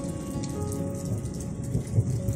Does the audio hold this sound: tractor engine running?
no